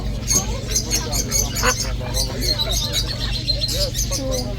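A flock of ducks calls and chatters continuously over a low steady hum, with quacking and honking mixed among the chirps.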